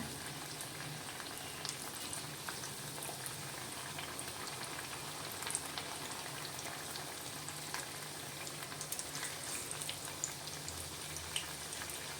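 Mattu gulla brinjal fritters fry in hot oil with a soft, continuous bubbling sizzle and scattered faint pops, steady and quiet throughout.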